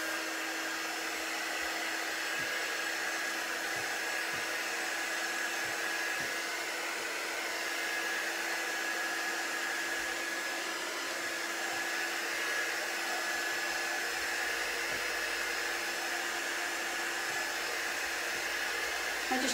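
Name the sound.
heat gun heating taped edges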